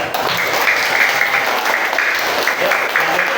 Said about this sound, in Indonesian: Ayo tepuk tangan, kembali